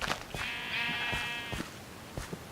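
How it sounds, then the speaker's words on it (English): A sheep in a farm-building video game gives one drawn-out, wavering bleat in the middle, mixed with a few soft clicks and thumps from the game. "so now I have 12 sheep"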